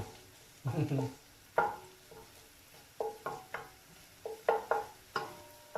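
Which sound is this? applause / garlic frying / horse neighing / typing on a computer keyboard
garlic frying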